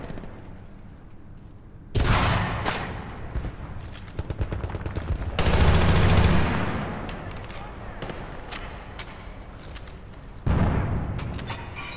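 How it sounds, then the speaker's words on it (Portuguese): Several loud shotgun blasts in the video game Battlefield: Bad Company 2, each a sharp boom with a ringing tail, spaced apart over a background of game noise. "o tiro de escopeta tá pegando aqui"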